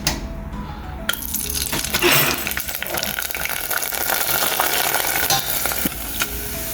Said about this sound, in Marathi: स्टार्ट करूया म्हणटा आमचे पापड फ्रायींग